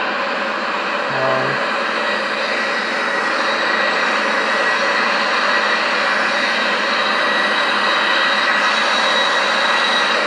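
The steady, loud roar of a Boeing 737-800 NG's jet engines in El Al Israel livery in the X-Plane flight simulator near Seattle-Tacoma Airport, a constant broadband drone holding unchanged throughout.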